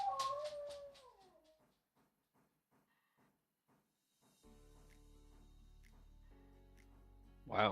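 Several dogs howl outdoors at night: a loud, close, rising-and-falling howl opens, then short yips fade out in a regular series, and a low steady hum follows, ending in a sharp burst.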